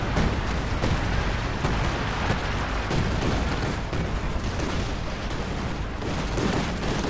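A 105 mm artillery barrage in the Company of Heroes 2 strategy game, a dense continuous roar of rumbling shell impacts and booms with sharp individual blasts scattered throughout.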